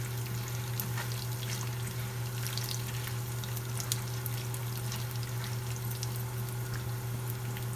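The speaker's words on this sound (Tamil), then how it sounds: "கடுகு உளுத்தம்பருப்பு இந்த பருப்போடு சேர்த்து வதக்கி வைத்து கொள்ளுங்கோ" Mustard seeds and urad dal sauté with cooked lentils in hot oil, a steady close sizzle with faint crackles running evenly throughout, over a low background hum.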